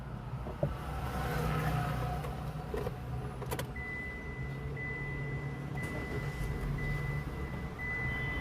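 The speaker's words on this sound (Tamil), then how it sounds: "ஸ்டார்ட் பண்ணி காட்டுறேன் உங்களுக்கு வண்டி." A car engine cranks and catches after being started with a folding key remote, settling into a steady low idle heard close by, with a faint electronic tone pulsing in the background.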